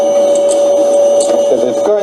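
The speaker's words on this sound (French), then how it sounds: "Я принял насадку и теперь приступаю к пылесосению" A vacuum cleaner cleans panels aboard the space station, its steady whining motor tone running loud and close throughout, with a voice speaking over it.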